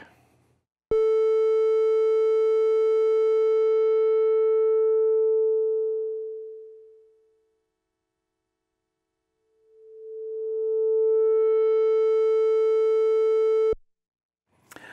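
A steady electronic synth tone from a Minimoog fades out into silence, then swells back in as the filter cutoff closes and reopens; no voices.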